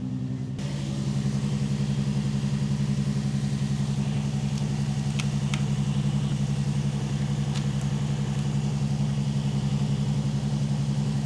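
A car engine idles steadily in its engine bay, a close, even mechanical hum with a constant low rhythm that holds for the whole stretch with no voices.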